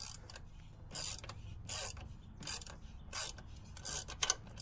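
Ratchet wrench loosening an exhaust bolt on a 2019 Svartpilen 401 motorcycle: repeated short bursts of clicking pawl ratcheting, close and fairly quiet, with pauses between strokes.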